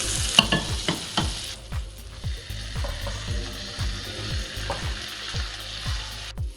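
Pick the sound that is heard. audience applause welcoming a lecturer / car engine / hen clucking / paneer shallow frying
paneer shallow frying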